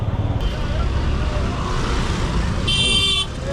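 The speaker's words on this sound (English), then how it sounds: "A lot of traffic." Busy road traffic at a public square in Jaipur's old city, India: a continuous roar of engines and passing vehicles, with a car horn honking loudly near the end.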